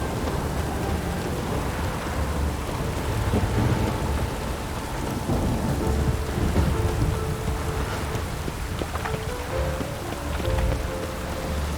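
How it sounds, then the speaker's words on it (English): Steady heavy rain in The Witcher 3: Wild Hunt pours throughout with a deep rumble of thunder rolling underneath, continuous and enveloping. "Witches have conjured rain."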